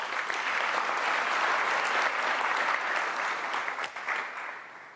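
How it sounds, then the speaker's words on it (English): Warm applause from a large audience at a university spring graduation ceremony in South Africa, a dense steady wash of many hands that holds strong for about four seconds before thinning and fading toward the end. "Shall we give him a warm round of applause?"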